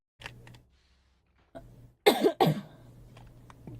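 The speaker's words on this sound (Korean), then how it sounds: "기침나." A girl coughs twice in quick succession, close and sharp, after a few faint soft sounds in an otherwise quiet room.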